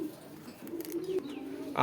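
Soft, low pigeon cooing repeats steadily at close range, with a few faint chirps and light rustling around it.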